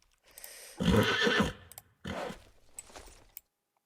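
A horse in a video game gives two whinnies, the first loud and drawn out, the second shorter after a brief pause, with a faint hoof sound near the end.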